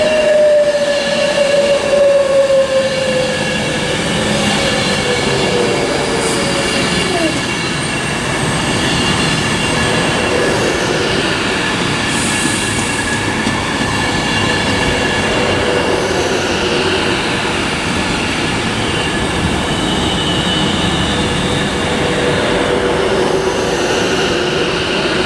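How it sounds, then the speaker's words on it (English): Avanti West Coast Class 390 Pendolino electric train at Birmingham International station on the West Coast Main Line, a steady loud rolling roar with a long high wheel squeal near the start and rumbling carriages passing close throughout. "next train is the 11:40 Avanti West Coast service to London Euston"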